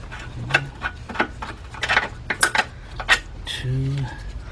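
Metal clinks and ratchet-like clicks from tools working loose motor mount bolts on a Ford Fiesta, a series of sharp close taps and scrapes with a short whirring burst near the end, under intermittent talk.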